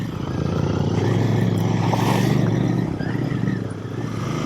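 Royal Enfield Bear 650 scrambler motorcycle riding off-road at Moab, its engine droning loud and steady with slight swells in revs, mixed with wind rush and no speech.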